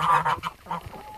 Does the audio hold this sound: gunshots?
no